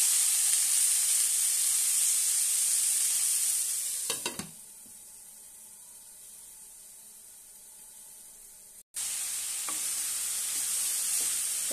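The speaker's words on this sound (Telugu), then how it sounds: "అన్ని వేసి ఇలా కలుపుకొని మూత పెట్టి కొంచెం మగ్గించుకుందాం" Shredded cabbage with half a spoon of turmeric sizzles and hisses steadily in a pan, drops to a softer simmer while stirred and covered, then the loud sizzle returns; no talking.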